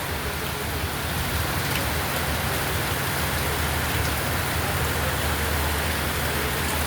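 Steady rain falls in a Bengali summer downpour, a dense, even hiss of drops on surfaces that holds constant throughout without any voices.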